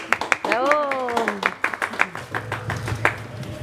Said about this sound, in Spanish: ese aplauso otra vez, muchachos